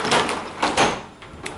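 A bathroom door in a rental apartment slides and bumps through a few short scraping movements, close and fairly loud. No voices are heard.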